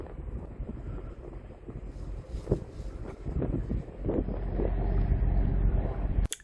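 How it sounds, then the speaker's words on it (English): Wind buffets the microphone on the riverside while waiting for the Shields foot-passenger ferry across the River Tyne, with a steady low rumble of boat engine and water building toward the end, continuous and fairly loud. "it gets a bit wet and windy when you're waiting for the ferry"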